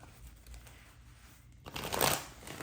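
A quiet rustle builds into a quick riffle of cards being shuffled, a brief crisp burst near the end.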